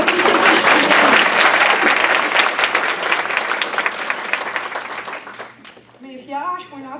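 Audience applause at a community gathering: dense, loud clapping fills several seconds, then thins out as a voice begins talking over the last scattered claps.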